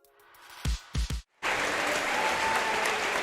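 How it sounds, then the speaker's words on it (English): A crowd at a girls varsity high school basketball game in a gym cheers and applauds, a sustained roar of clapping and voices following a few brief loud thumps. "The cheer that you hear is the crowd wishing Kelly Queen the best of luck"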